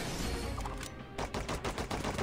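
Rapid gunfire bursts in the DC Worlds Collide video game, loud and dense, crackling shots repeating in quick succession with a brief lull near the middle before the volley resumes.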